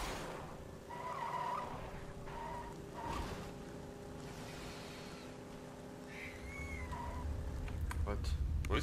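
A vehicle in Borderlands 2 drives with a steady engine drone, its tires squealing in short skids, and the engine grows louder and rougher toward the end while someone talks.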